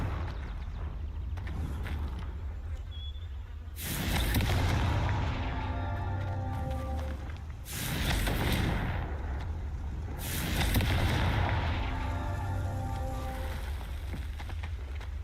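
Fire spell explosions in Hogwarts Legacy, three loud bursts spaced a few seconds apart, each a crackling roar that lingers over a quieter background of ambient game sound.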